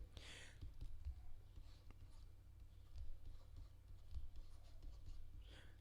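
Chalk or marker writing on a board during a calculus lecture on integrals and volumes by slicing, heard as faint scratchy strokes and taps in a quiet room, with a low hum underneath and no clear talking.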